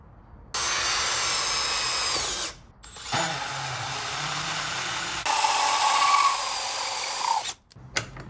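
A power drill with a larger bit bores through material while boat equipment is being fitted, a loud steady high whine in several long runs broken by short pauses, close up and alone.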